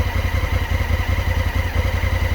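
A 2016 Honda Africa Twin's engine runs close and loud at a steady idle, with a rapid, even exhaust thump and mechanical clatter throughout.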